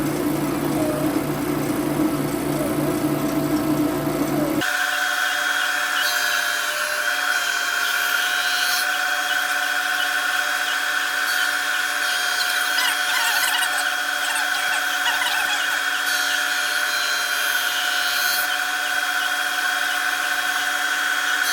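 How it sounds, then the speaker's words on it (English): A drum sander works over a router-carved wooden pig, starting with a sudden, loud, steady high-pitched whine that runs on for the rest of the stretch. "he's going to run it through the drum sander."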